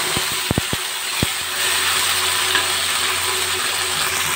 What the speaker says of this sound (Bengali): এবার আমি মশলাটা ছেড়ে দিলাম।